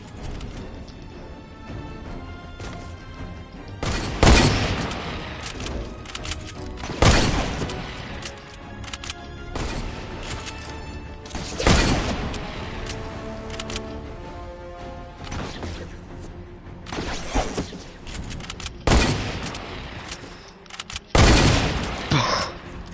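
Repeated bursts of video game gunfire from a shooter match, loud sharp volleys recurring every few seconds over a busy background of game effects and music, with little talk.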